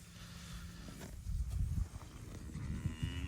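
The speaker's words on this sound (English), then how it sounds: "we got the cows moved to the next paddock" Cattle low and shuffle about while being moved into the next paddock on a hay-fed farm, with a few deep, fairly close moos and hoof-like thuds over a steady outdoor background.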